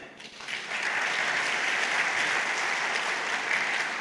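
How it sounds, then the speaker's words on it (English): Audience applause at an award ceremony: a dense, even wash of many hands clapping that swells after a quiet start and holds steady for several seconds, with no talk over it. "Let us clap for them."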